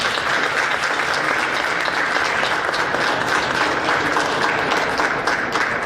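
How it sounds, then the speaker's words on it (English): An audience at a Harrison County school board meeting applauds school principals with a steady, dense round of clapping that stays loud and even throughout, with no talk over it. "let's give these principals a quick round of applause"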